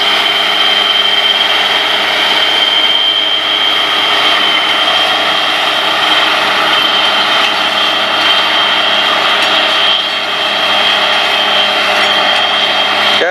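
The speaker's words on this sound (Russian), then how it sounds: "А вот теперь слышно, как звучит двигатель." A loud, steady tractor engine drone with a strong mechanical hum runs continuously throughout, close and unbroken, with no talking.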